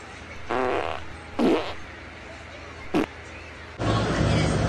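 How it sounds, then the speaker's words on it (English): Elephants farting in a comedic short film: three separate loud, rasping bursts spaced a second or two apart, followed by a noisier stretch at the end, with no talking. "They keep on farting."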